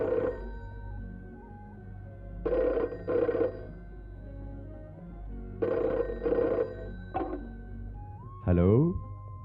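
A telephone rings in bursts of double rings with short pauses between them, fairly close in a quiet home, followed by a brief rising tone at the end.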